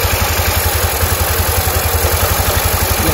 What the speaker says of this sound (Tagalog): Isa lamang po ito sa mga posibleng ingay, pinagmumula ng ingay ng iyong motor.